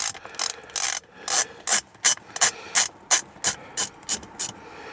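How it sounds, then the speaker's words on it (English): A hand ratchet backs out a 5/16 bolt during a clock spring replacement on a Mustang steering column, about a dozen crisp, evenly spaced bursts of rapid clicking up close with brief pauses between strokes. "So I'm gonna just take this bolt out here."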